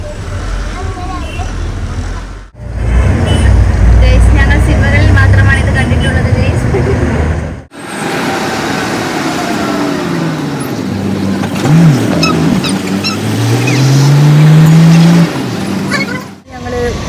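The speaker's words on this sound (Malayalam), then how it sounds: "ലുലുവിലേക്കുള്ള ബസ് കയറി" A bus ride through city traffic toward a mall in Trivandrum, with a steady engine drone, rising revs and passing road noise broken by short gaps, and voices talking over it.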